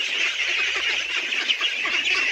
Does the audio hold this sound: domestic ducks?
yes